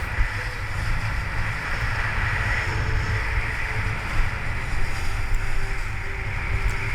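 Steady wind rushes past while kitesurfing at Long Beach, Belmont Shore, a continuous broadband roar with low rumbling buffets and no voices.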